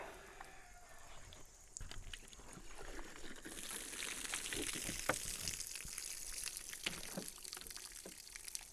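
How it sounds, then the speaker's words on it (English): Water dumped out of a ballistic gel container after a test shot, a steady pouring and splashing rush that swells midway and continues with trickles and drips, fairly close and alone. "So let's dump the water out and see what it looks like."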